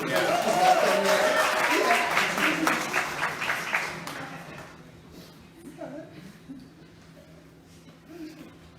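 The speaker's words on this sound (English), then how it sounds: "Can we give her a round of applause?" A church congregation applauds a nervous woman making announcements before the service, a broad wash of clapping that tapers off after a few seconds, with voices and chatter underneath and a quieter room afterwards.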